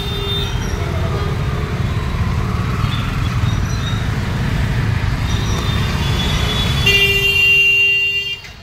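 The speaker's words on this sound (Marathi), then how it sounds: "छोटासा रोड आहे पण भयानक ट्रॅफिक जाम होतं." Heavy morning traffic jammed on a narrow road with vehicles on three sides: a steady low rumble of engines, with a bright horn blast sounding near the end.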